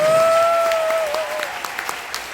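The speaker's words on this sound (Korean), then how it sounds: "박수 시원하게" Applause from an audience at a corporate leadership event, steady clapping under a fading tonal hum from the sound system at the start, with sharp individual claps standing out as it goes on.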